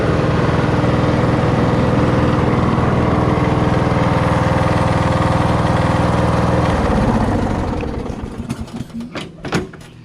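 A Toro LX460 lawn tractor with a Kohler Courage engine runs in reverse with a loud, steady droning hum, then the engine note drops and fades into a few clunks and rattles.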